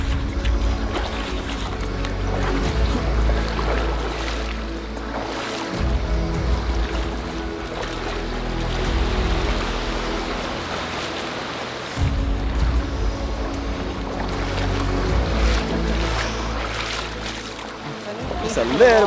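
Feet wade through a freezing river with a slight current, sloshing and splashing in a continuous rush of water, while people talk nearby.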